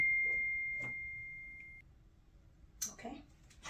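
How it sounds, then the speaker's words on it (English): A phone notification beep: a single steady electronic tone held for nearly two seconds, clear and fairly loud, followed by a pause and then people talking. "Notification."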